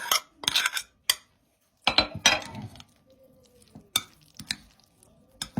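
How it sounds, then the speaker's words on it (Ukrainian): A salad dressed with two spoonfuls of mayonnaise is stirred in a bowl, giving irregular bursts of wet scraping and clinking from a spoon, with short pauses between strokes and no talking. "Все гарненько перемішуємо."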